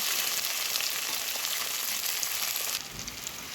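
A steady, bright sizzle of chopped onions frying in hot oil, close and continuous, easing slightly near the end.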